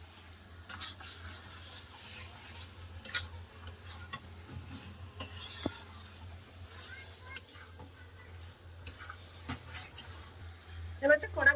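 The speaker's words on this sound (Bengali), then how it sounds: "মাংসটা মশলার সাথে খুব ভালো করে কষে নেবো" Meat is stirred and fried with spices in oil in a pan, with faint sizzling under irregular scraping and clinking of a spatula, some strokes sharper and louder than others.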